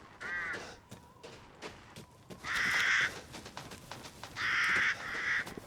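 Crows caw loudly in Resident Evil Village, harsh repeated calls in bursts of two or three, close by and overlapping, over a background of game ambience.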